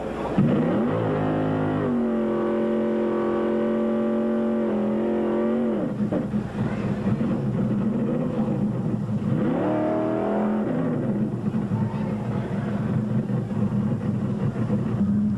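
Superstock drag racing cars roar down the strip at the 1978 NHRA Sportsnationals, loud engines revving hard with rising pitch sweeps as they accelerate, one run following another up close.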